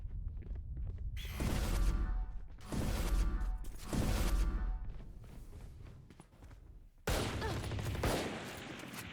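Marshal sniper rifle shots in a Valorant esports match, four loud, sharp bursts spaced about two seconds apart, each followed by a ringing decay and mechanical bolt clatter.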